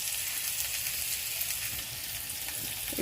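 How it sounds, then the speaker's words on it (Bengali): Onions fry in a pan with a dense, continuous sizzle that stays close and even throughout, with no talking. "পেঁয়াজটা ভাজা হয়ে যায় বন্ধুরা, আর অল্প একটু ভাজলেই হয়ে যাবে।"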